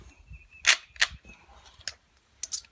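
An Israeli FN-made Mauser 98k rifle fires at a range: four sharp, loud shots at irregular intervals, each a short crack, with quiet pauses between.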